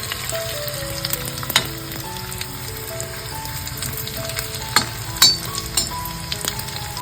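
Dried fish frying in hot oil on a village-style stove, a steady dense sizzle and crackle throughout with occasional sharper pops and spatters, close and loud, with faint background tones.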